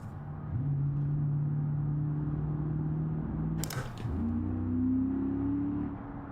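A Dodge Viper engine in BeamNG.drive holds a steady drone, then a brief sharp burst cuts in before the note climbs again as the car pulls away. It sounds loud and close, with no talk over it.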